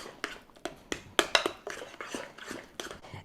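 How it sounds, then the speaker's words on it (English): A utensil scrapes and clinks against a bowl while potato pancake batter made from leftover potatoes is stirred, rhythmic strokes roughly every third of a second, close and fairly quiet, without talking. "So I'm just going to stir this up really good."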